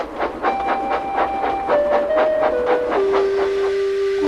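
A steam train engine chuffs along the rails in a steady run of close, rhythmic puffs, with sustained whistle-like tones drifting in pitch over the beat.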